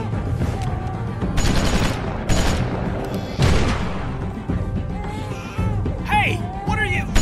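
Gunfire in The Walking Dead video game: several loud bursts of shots in quick succession, close and echoing, with voices and game sounds mixed in.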